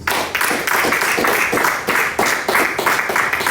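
A church congregation claps their hands together in steady rhythmic unison, a loud, continuous, evenly spaced beat filling the room with no voices above it.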